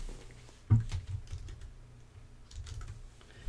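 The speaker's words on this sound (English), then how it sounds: "I'm going to type the words back to." Keys clatter on a computer keyboard in a quiet room, a run of soft taps with one sharper press early on.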